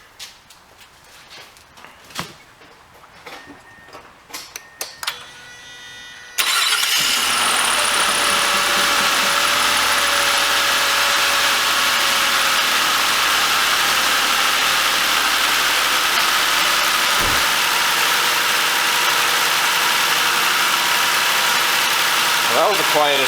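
A Mazda6 engine fitted with a new starter turns over after several seconds of quiet clicks and handling noises. It catches abruptly and settles into a loud, steady idle that runs for the rest of the recording.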